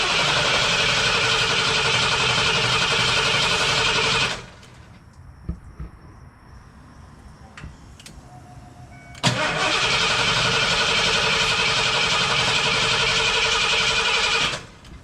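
Big block V8 in a Ford Lightning pickup running at a loud, steady roar close by, cutting out to near quiet with faint clicks and shuffles, then firing back up and holding the same droning note.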